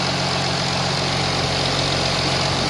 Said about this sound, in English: So I turn AC on. Cooling fan 1 starts spinning.